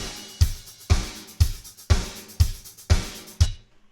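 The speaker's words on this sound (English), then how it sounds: "Without the master bus processing." Mixed drum kit heard dry without master bus processing, a steady pattern of eight punchy kick-and-snare hits about half a second apart, close and upfront, alone with no talk.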